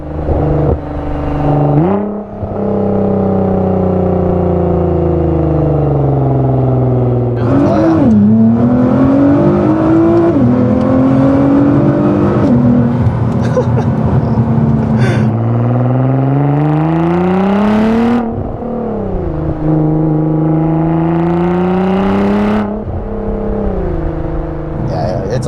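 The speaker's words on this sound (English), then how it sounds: "It's a whole different car with the exhaust on it." Nissan GTR fitted with an aftermarket exhaust revs loudly and close, the engine note climbing and falling through several sustained pulls with crisp downshifts, with people talking quietly beneath it.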